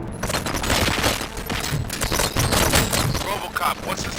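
Rapid bursts of gunfire from the video game Robocop: Rogue City, a dense, continuous volley of shots filling the scene with loud, overlapping cracks while voices are heard beneath the din.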